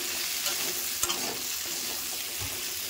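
Pumpkin greens sizzle steadily in a hot pan, with stirring scrapes and a brief clatter partway through; no one speaks.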